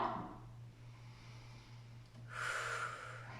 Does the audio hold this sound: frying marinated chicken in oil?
no